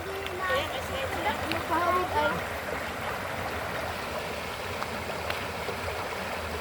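A real river flowing and splashing as people wade in, with steady broadband water noise throughout and voices and laughter over it in the first seconds.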